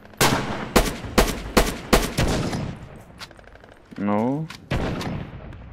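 Gunfire from an MKb 42 assault rifle in the WWII shooter Red Orchestra 2: Heroes of Stalingrad, a rapid string of about six loud, sharp shots, then scattered quieter pops, with a buzzing tonal effect and brief noise bursts near the end.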